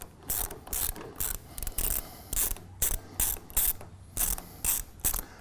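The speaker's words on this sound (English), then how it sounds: "you're just gonna go ahead and loosen this all the way out and pull this bolt completely out" A ratchet tool loosens a bolt on a printer's internal carriage, giving rapid bursts of clicking pawl sounds in a steady back-and-forth rhythm, close and fairly loud with short pauses between strokes.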